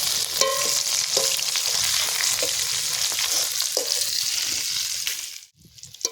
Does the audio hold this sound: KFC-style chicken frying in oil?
yes